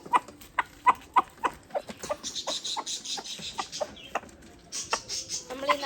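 Free-range country chickens clucking close by, a run of short rhythmic clucks followed by scattered calls and a busier burst at the end.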